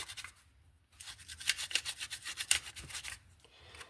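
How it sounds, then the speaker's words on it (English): Quiet, rapid rubbing and rasping as the inside of vacuum-formed plastic model windows is scratched up, a close scraping texture that starts, pauses and resumes for a few seconds with no talking. "what you're doing with this is just kind of scratching up the inside to give the paint something to adhere to"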